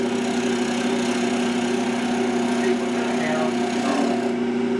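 A spindle gouge cuts a wooden spoon on a spinning lathe, giving a continuous rough scraping hiss over the steady motor hum, close and constant throughout.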